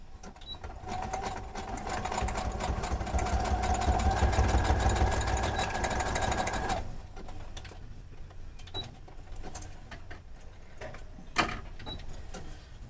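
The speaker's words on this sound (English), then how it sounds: "let me go zip this across my sewing machine" A sewing machine stitching through paper whirs steadily at speed for several seconds, then stops, followed by quieter clicks and handling noises.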